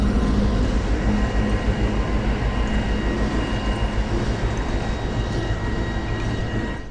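A big yellow-and-green White Pass & Yukon Railway diesel train rolls past nearby, giving a loud, continuous rumble with rhythmic clatter and a faint high whine that eases slightly toward the end.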